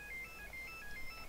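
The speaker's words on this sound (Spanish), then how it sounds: "Bueno, me están llamando por teléfono" A phone rings faintly with an incoming call, a thin melodic ringtone of repeating high beeps that plays steadily and quietly throughout, with no talking.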